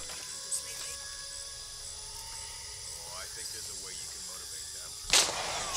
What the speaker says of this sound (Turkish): Şu yeni silahımızı bir deneyelim değil mi?